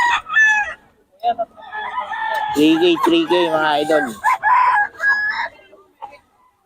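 A rooster crows loudly and close by at a market in Bocaue, with someone talking briefly before and after the call.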